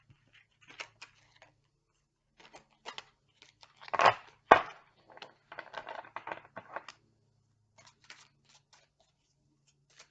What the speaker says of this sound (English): I know I'm shuffling a really long time.